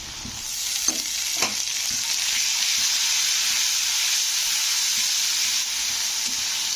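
Ginger paste with turmeric fries in hot oil while being stirred for an aloo posto dish, giving a steady bright sizzle with a few soft spatula scrapes near the start, close and continuous, with no voices.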